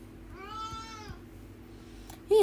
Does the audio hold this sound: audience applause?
no